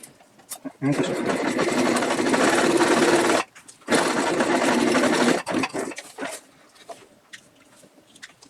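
Sewing machine stitching a backpacking gear prototype in two long, loud bursts separated by a short pause, followed by quieter handling clicks and a voice speaking.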